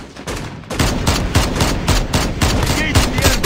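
Rapid gunfire from Call of Duty Mobile, a loud close burst of evenly spaced automatic shots over about three seconds.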